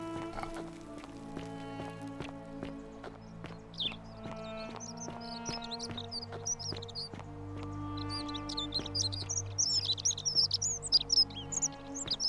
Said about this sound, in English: That bird is chatty.